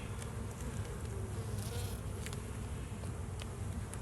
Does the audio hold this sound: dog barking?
no